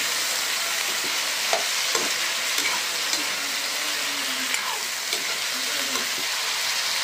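Mixed vegetables sauté in a pan, giving a steady, close frying hiss with occasional soft scrapes and taps of a spatula stirring them.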